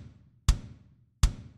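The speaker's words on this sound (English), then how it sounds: "There was also in the studio a 24 inch kick drum" Two deep, booming strikes on a 24-inch kick drum, each with a bright attack and full low end, spaced under a second apart over a quiet low-frequency hum.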